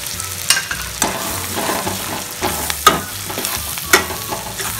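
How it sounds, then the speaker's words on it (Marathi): Sambar masala, red chili powder and other sambar ingredients roast in hot oil, giving a close, steady sizzle broken by sharp scrapes and clacks as a spoon stirs the pan. "सर्व साहित्य तेलामध्ये साधारण 1 मिनिट भाजून घ्यायचं आहे"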